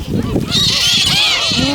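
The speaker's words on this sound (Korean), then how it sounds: "야, 갈매기 많이 왔다." Seagulls call repeatedly on a tidal mudflat at Dongmak Beach, their harsh honking cries loud and close, mixed with wind noise and a voice in the background.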